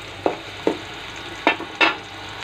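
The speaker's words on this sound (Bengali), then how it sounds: "আমি প্রথমে একটা কড়াতে একটু পরিমাণে তেল, পেঁয়াজ, কাঁচা মরিচ, রসুন বাটা, লবণ দিলাম স্বাদ মতো।" Onion, green chili, garlic paste and salt frying in a little oil in a kadai, a steady low sizzle broken by four distinct scraping stirs, close and clear with no talking.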